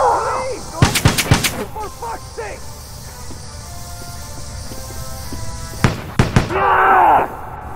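Two short clusters of loud gunshots in the post-apocalyptic shooter Metro 2033, a few sharp cracks at a time with a quieter stretch between them, while voices shout nearby.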